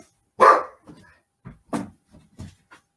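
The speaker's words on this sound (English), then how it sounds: "Dog decided to just bark out of nowhere." A dog barks sharply once at close range, then gives several softer, shorter barks and yips spaced through a quiet indoor room.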